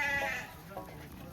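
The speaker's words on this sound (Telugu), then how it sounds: "ఈ రకమైన గొర్రెలు అయితే మొత్తం ఆచార్ల బ్రీడ్." An Acharla breed sheep bleats at a Saturday livestock market, one wavering cry near the start, followed by fainter bleats amid crowd murmur.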